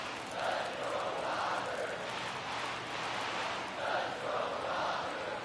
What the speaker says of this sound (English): Crowd starting to come alive at Chavez Ravine